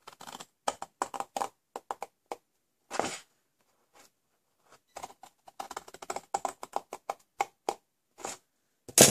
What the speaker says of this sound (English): what you're going to do is cut up either side of this score line.